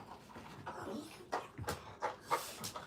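A pet dog named Millie whimpers and pants to ask for something, soft whiny squeaks and breathy huffs coming in short bursts close by, fairly quiet, with a little speech mixed in.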